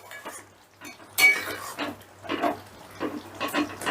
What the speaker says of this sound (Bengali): সমস্তটা একটুখানি নাড়াচাড়া করে মিশিয়ে দিচ্ছি।